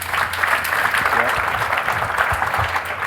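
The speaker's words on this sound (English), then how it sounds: "I think that's worth a round of applause." Audience applause at a startup interview event, a dense steady patter of clapping lasting about three seconds at moderate loudness, with no clear speech over it.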